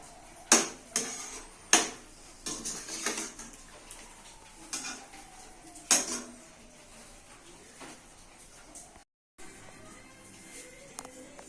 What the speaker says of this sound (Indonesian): Ini perebusan daging, jangan lupa diaduk-aduk supaya tidak gosong di bawahnya.